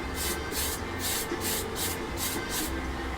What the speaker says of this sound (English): Only takes a couple of coats, or a couple of spritzes.